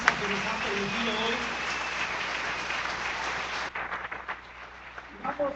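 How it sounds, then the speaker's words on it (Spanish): A church congregation applauds together in a steady, dense wash of clapping that fills the room, then thins into scattered claps and a few voices near the end. "Un aplauso a Dios por la alabanza que nos ha permitido hoy."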